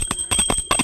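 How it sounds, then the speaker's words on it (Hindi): A bright metallic temple bell rings in several quick strikes, close and clear, each with a short ringing tail. "पता है घंटी क्यों बजाई जाती है?"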